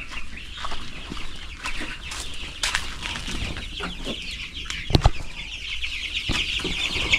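Chickens cluck and squawk nearby at a public market in Arayat, with a few sharp calls and wing flaps over a constant background murmur of the flock.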